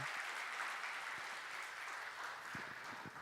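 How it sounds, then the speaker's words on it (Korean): Congregation applauding during a Sunday worship service at Cheonho Jeil Methodist Church, a dense, steady wash of many hands clapping that holds evenly throughout with no voices over it. "우리 여러분 그러면서 박수해 주시겠습니다"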